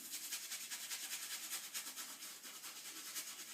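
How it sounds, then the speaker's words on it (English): A badger shaving brush works soap into lather on a face, producing a continuous soft wet swishing and rubbing with a quick repeating rhythm, close and fairly quiet. "Let's lather up."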